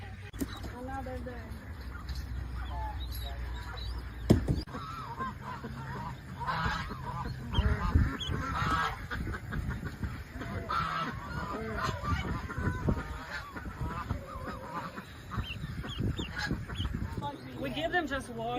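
Ducklings and ducks calling in a crowded group, a continuous mix of peeps and honking quacks under people talking throughout.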